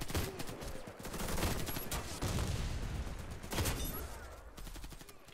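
Rapid gunfire bursts in the Warface online shooter, played in a DP-12 shotgun match, loud and dense throughout with overlapping shots and brief lulls, mixed with game ambience.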